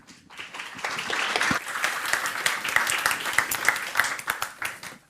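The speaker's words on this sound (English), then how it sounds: "So a big round of applause for Anna and Ahmed." An audience claps in sustained applause for two course presenters at a geometry processing lecture, a dense, steady patter of many hands rising quickly and holding for several seconds before tapering off.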